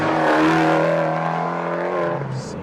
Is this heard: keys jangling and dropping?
no